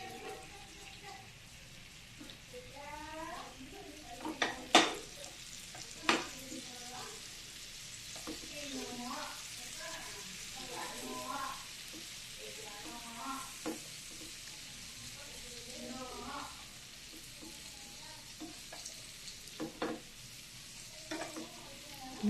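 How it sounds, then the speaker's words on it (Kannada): Pizza bread toasting in melted butter in a pan gives a faint, steady sizzle under a person talking, with a few soft clinks near the start. "ಸ್ವಲ್ಪ ಎಣ್ಣೆಯಲ್ಲಿ ಟೋಸ್ಟ್ ಆಗಬೇಕಿದು"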